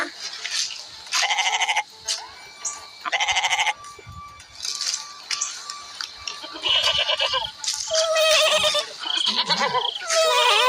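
Repeated goat bleats, loud and close, in several wavering bursts with short pauses between them, some overlapping toward the end.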